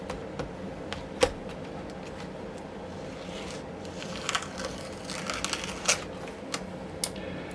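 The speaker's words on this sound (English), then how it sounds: "I'm actually going to try to peel it off of this and put it on here and lay it flat." An adhesive strip being peeled off an old MSI GL62 6QF laptop screen gives irregular crackling and tearing sounds with sharp little snaps, close by and without speech.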